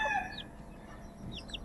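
A Chinese silkie chicken clucks and chirps faintly, with short high calls over a quiet farmyard background.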